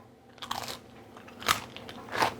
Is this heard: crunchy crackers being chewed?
yes